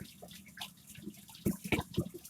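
Prawns are washed by hand in water. Soft, close splashing and sloshing comes in uneven bursts that grow louder and more frequent toward the end.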